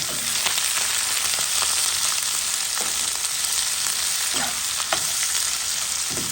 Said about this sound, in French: Mettre des oignons. Oignons rouges.